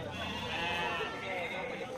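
Sheep bleat at a livestock market where fattening sheep are sold, a wavering bleat rising amid crowd noise while someone talks over it.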